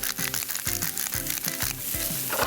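Mushrooms with salt and pepper frying in a hot oiled pan, a steady close sizzle under a repeating low musical hum.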